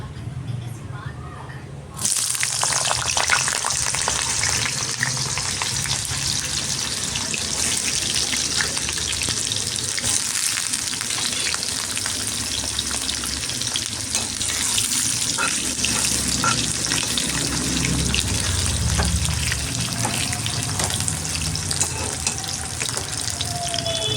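Sliced potatoes go into well-heated oil and fry with a steady, dense sizzle that starts abruptly after a quiet opening and carries on evenly at close range, with faint watery crackle.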